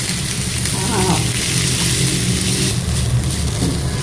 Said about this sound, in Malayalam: ഇതിൻ്റെ ആ റോ ഫ്ലേവർ ഒന്ന് മാറുന്നത് വരെ വഴറ്റിയെടുക്കുക